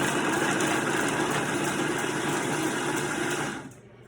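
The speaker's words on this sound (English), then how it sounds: "Let's put it in here, and we're just going to pulse" A food processor pulses minced garlic in a loud, steady whirring motor burst lasting several seconds, then cuts out abruptly near the end, leaving a quiet room.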